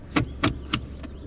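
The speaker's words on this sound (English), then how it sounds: "You can hear the doors automatically lock and unlock." Power door locks on a 2019 Toyota RAV4 LE actuate automatically, giving four quick, close mechanical clunks spaced about a quarter second apart inside the cabin, the last one fainter.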